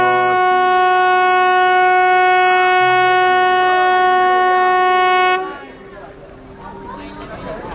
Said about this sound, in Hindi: तो अभी हमारी ट्रेन जो है वो शुरू होने वाली है और आप लोग देख सकते हो ये रही मीटर गेज की ट्रेन।